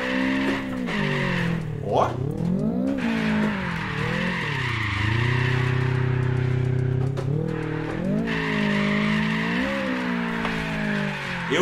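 Car drifting with squealing tires in a racing video game, a Toyota Trueno AE86 fitted with a turbo, its engine droning and revving loudly throughout while tires screech in long sustained slides; someone talks briefly over it.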